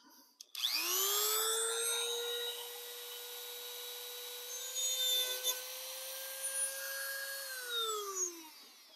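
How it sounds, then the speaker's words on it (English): A rotary tool with a cutoff wheel cuts through model railway track, a loud steady high whine that holds for about seven seconds before winding down. "to cut it, I'm going to use a cutoff wheel in my rotary tool."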